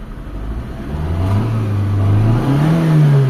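Mitsubishi Lancer engine revving after sitting in long storage and running slightly rough, a close, loud rev that climbs and wavers in pitch over a few seconds, with no talk.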